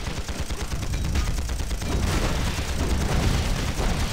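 Rapid machine gun fire in the online combat game Panzar, a dense, continuous rattle of shots that runs at steady loudness without any voices.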